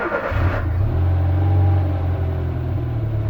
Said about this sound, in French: Ça démarre pas pire qu'une 4L, hein